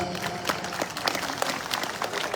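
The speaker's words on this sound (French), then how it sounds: "Il faut applaudir votre président pour ça." Applause from a crowd at an outdoor celebration of the 49th anniversary of Comorian independence, a steady dense patter of many hands clapping at moderate distance, without talk over it.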